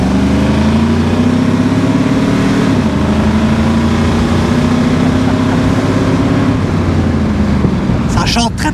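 A 1969 Ford Mustang GT V8 breathing through its entirely original exhaust, a loud, steady droning rumble with a slight rise and dip in pitch as the revs shift, close and continuous, with brief wind buffeting near the end.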